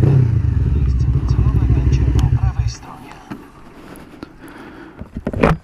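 A Yamaha MT-10 or Suzuki GSX-R motorcycle engine drones loudly at close range for almost three seconds as the throttle is eased off, then fades to low rumble and wind noise with scattered clatter and a brief rise at the end.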